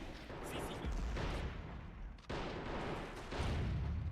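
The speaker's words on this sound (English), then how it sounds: "Your artillery ends up missing and hitting the base of the hill instead of the top" Artillery fire on a World War I Italian front hill battle in All Quiet on the Western Front: repeated heavy, rumbling blasts and dense booming, with sharp onsets that hit in waves and rise loudest near the end.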